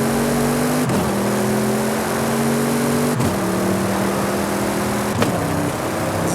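An Audi RS7 V8 engine in Forza Horizon 5 holds a steady drone, its pitch climbing then dropping sharply at three gear shifts, loud and close with no other sounds.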